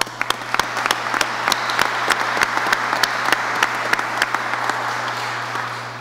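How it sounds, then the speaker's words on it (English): Audience at a booster pumping station project completion event applauding, dense steady clapping from a crowd with distinct sharp claps from nearby hands, a low steady hum underneath, fading slightly toward the end. "Please give them a round of applause."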